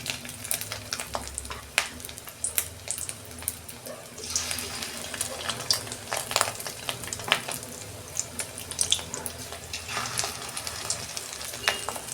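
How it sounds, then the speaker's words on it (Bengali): Fish roe fritters sizzle steadily in hot oil over a low gas flame, a continuous crackling hiss with scattered pops and occasional utensil clinks nearby. "গ্যাসের ফ্লেমটা আস্তে করে দিয়ে আমি বড়াগুলো ভাজবো।"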